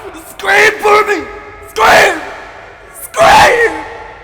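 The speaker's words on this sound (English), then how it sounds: "Scream for me!" A man screaming loudly in three separate bursts with short pauses between, close and echoing, the yells rising and falling in pitch.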